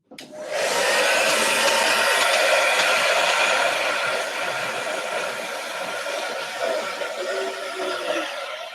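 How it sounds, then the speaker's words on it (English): A hairdryer switches on and blows with a loud, steady whooshing roar close by, holding up a ping pong ball, the pitch shifting slightly as it runs. "So we just have a hairdryer and a little ping pong ball here."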